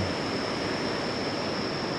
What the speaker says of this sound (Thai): คอนพระเพ่งนี่ก็เป็นอีกจุดน้ำตกหนึ่งที่ว่ามีชื่อเสียง